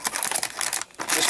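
A large plastic bag holding the dark green parts of a World War Toons Sherman M4A1 model kit crinkles up close in a quick burst of crackly handling noise with a brief pause.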